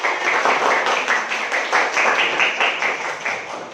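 A group of vocational school students claps together in a classroom, a lively burst of steady, dense applause pulsing in rhythmic waves and tapering slightly at the end.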